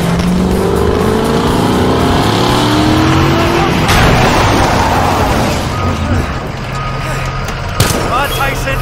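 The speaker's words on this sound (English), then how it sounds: "Let's get out of here! Drive, Tyson, drive" A car driving away in the game Battlefield Hardline, a loud continuous engine roar with revving and rising pitch over dense action sounds.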